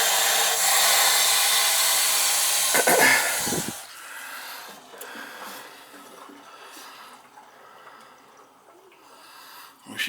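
Steady loud hiss of pressure venting from a leaking boiler through a hose into a pit, strong for about four seconds and then fading to a fainter, uneven rush of escaping air and water.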